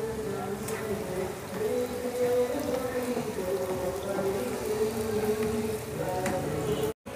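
Chopped onions and a spoonful of ginger sauté in a hot pan with a steady, dense sizzle that runs without a break, with faint stirring under it.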